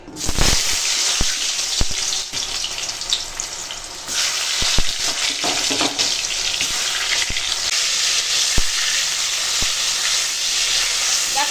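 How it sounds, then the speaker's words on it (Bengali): Pointed gourd pieces fry in hot oil with a loud, steady crackling sizzle, punctuated by sharp spatula clicks and scrapes against the pan throughout. "এখন তেল গরম হয়ে গেছে আর পটলগুলো চলো ভেজে নেবো আগে"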